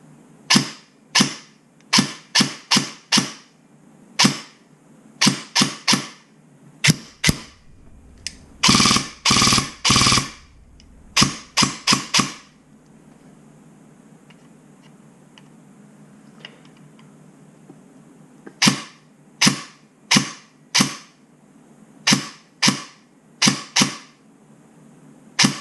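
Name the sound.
airsoft Gate Titan Phantom gun firing, bevel gear noise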